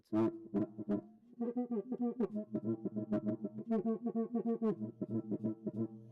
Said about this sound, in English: This musical instrument here is called the cuica.